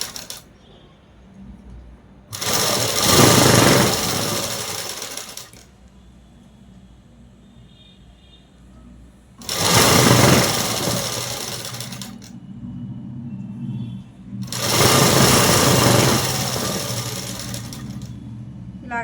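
Domestic sewing machine stitching cloth for a dress top, running in three loud bursts of a few seconds each with quiet pauses between.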